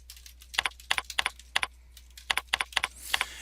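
Keys clack on a computer keyboard in quick irregular bursts of two and three strokes, close and crisp over a low electrical hum, with no talking.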